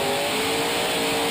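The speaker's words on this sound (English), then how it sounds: "I like the sound of this truck." Grave Digger monster truck engine roaring loud and close at a freestyle event, a steady dense rev filling the whole stretch with no talk.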